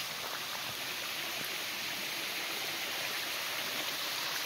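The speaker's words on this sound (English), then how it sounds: "This is like the top view of the falls here." A waterfall at the Lemont Heritage Quarries along the I&M Canal Trail rushes in a constant, dense roar of falling water, steady and close, with no voices.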